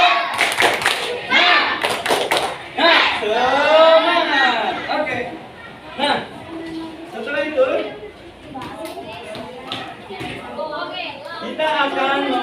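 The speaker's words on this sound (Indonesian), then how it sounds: "Tepuk semangat." Schoolchildren in an elementary classroom do a rhythmic spirit clap, with sharp, patterned clapping mixed with chanting voices and a teacher speaking.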